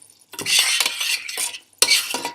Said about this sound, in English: So I'm just going to boil this vigorously like this until it gets really, really thick again